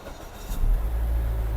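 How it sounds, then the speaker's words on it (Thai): A used Mazda 2 car's engine starts with the push-button start, a brief click followed by a deep, steady idle rumble that settles in close by. "เหยียบเบรกแล้วก็สตาร์ทกันครับ"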